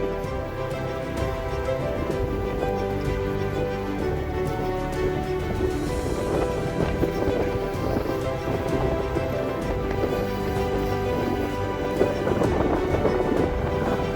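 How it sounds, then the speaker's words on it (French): Strong wind blows along the banks of the Seine near Villequier, a constant, loud rushing roar that fills the whole stretch with steady gusting texture and no pauses. "le vent a pas l'air de trop vouloir se calmer"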